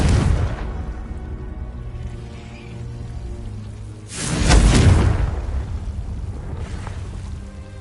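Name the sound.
spell casting explosion in video game Hogwarts Legacy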